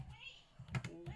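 Quick taps on a computer keyboard come in short, uneven bursts of clicks, close and fairly quiet, with a few louder keystrokes near the end.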